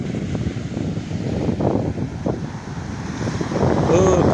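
Wind buffets the microphone out on the open sea, with foamy surf and waves washing steadily underneath, loud and continuous and growing stronger toward the end.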